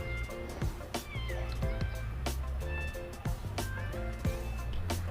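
A caged cat that has been sterilized but is still feral meows repeatedly in short, tonal cries. The meows are faint and buried in a dense, busy background.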